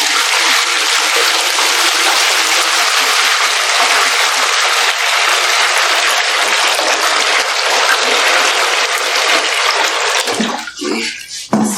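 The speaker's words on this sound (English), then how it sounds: "we are transferring the hot water to the other dish. Okay, so you pour carefully so that you don't burn anyone." Very hot water from an electric-heated bucket pours steadily into a dish, a loud, continuous hiss and splash that thins and breaks into gurgles and drips as the pour ends.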